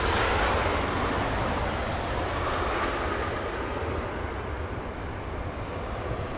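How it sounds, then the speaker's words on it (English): A Boeing 767 airliner departs Los Angeles International Airport with a loud, continuous engine roar. The deep rumble swells at first, then holds steady and gradually eases. "We have a departure. We have a 767"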